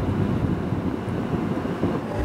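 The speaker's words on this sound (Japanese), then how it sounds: "列車は播磨の国と備前の国の県境の山あいを走ります" Sunrise Izumo sleeper express rolling through mountains on the border of old Harima and Bizen provinces, heard from inside a carriage as a steady low rumble with constant wind-like rushing and no voices.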